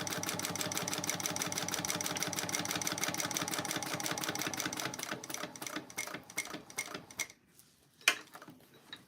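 A sewing machine back stitching a small purse runs in a fast, steady mechanical chatter for several seconds, then slows into a few separate stitch clunks and stops, ending with a lone sharp click.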